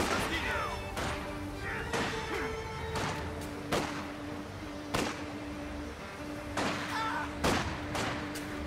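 Gunfire and shell impacts from the World War II strategy game Company of Heroes 2, set in winter: a series of sharp, loud bangs at irregular intervals over steady ambient battle noise, with a voice talking throughout.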